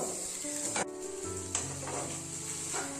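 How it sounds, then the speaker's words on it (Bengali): Steady, continuous sizzling of food frying in a pan, close and even, with a few faint scraping stirs and a low hum underneath. "তো এটা সুন্দর করে ভাজা হচ্ছে"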